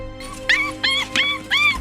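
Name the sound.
trapped puppy crying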